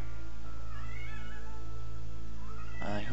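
A house cat meows several times close to the microphone, drawn-out rising and falling cries with a sharper call near the end, over a steady low background hum.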